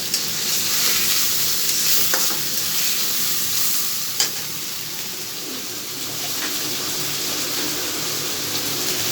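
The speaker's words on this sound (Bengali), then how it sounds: "একটুখানি টমেটো দিয়ে দেবো, ভালো করে মশলাটা কষিয়ে নেব।" Ginger-garlic paste, spices and tomato sautéing in a pan while being stirred, a steady close sizzle running throughout with occasional scraping clicks, no voices.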